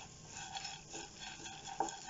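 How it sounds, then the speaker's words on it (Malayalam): Sprouts stir fry being stirred and mixed in a pan, soft scraping of a spoon through the food with a faint sizzle, close and quiet, one slightly louder knock near the end, no talking. "നന്നായിട്ട് ഇളക്കി യോജിപ്പിക്കുക."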